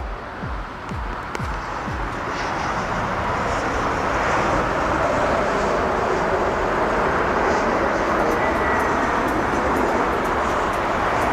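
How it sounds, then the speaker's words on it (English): An Airbus A330 takes off at a windy, rainy Frankfurt Airport, a loud, sustained jet roar rising out of a rumble and holding broad and strong, with wind noise throughout. "In the background, we have a beautiful takeoff here on this A330."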